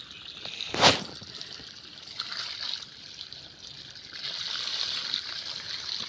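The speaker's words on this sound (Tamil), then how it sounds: "சப்போட்டா மரத்துக்கு இப்போ தண்ணி பாஞ்சிச்சு" Water running to irrigate a sapota tree, a soft continuous trickle and flow with one brief splash near the start, fairly faint and without speech.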